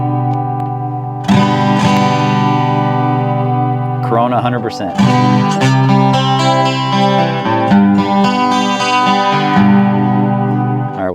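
A sustained sung tone is reshaped by the shimmering harmony effect of a TC Helicon Harmony V100, switching from silk at 100% to corona. Thick layered voices shift character partway through as the processing changes.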